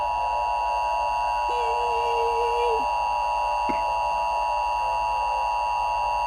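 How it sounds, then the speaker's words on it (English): Emergency Alert System tones on a national emergency broadcast: steady electronic attention tones hold throughout, loud and continuous, with a brief higher beep partway through and a short sharp chirp near the end. "Oh, there's the famous EAS noises."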